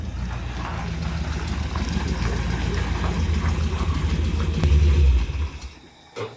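A Corvette engine idling with a low, steady rumble as the car rolls back into a parking spot, swelling slightly louder near the end before dropping off.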